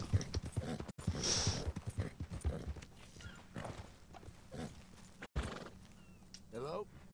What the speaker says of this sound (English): Oh, I got a female horse now.